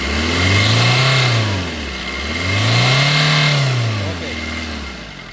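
Diesel engine of a 2018 Maruti Vitara Brezza VDi revving as the accelerator is pressed, two smooth rises and falls in pitch over a low idle, close and fairly loud.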